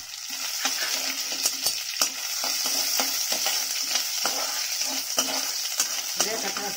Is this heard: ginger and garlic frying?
yes